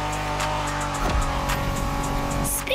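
A 1990s Honda NSX sports car in the racing game The Crew Motorfest drones along with a steady engine note, briefly dipping then climbing again as it accelerates, with a sharp rise near the end.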